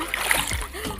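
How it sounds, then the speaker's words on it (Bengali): Water splashing close by as someone thrashes and tries to swim in a water park pool, a continuous churning splash over about a second with voices talking underneath. "আমি সাঁতার কাটছি"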